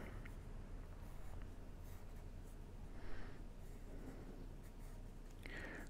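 Pencil sketching on paper while roughing out a drawing of Chun-Li, quiet scratchy strokes in short intermittent bursts against a faint background hiss.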